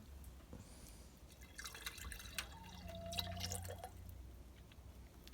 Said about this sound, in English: Here's some milk left over from my last milking. I'm going to now refeed the kefir grains.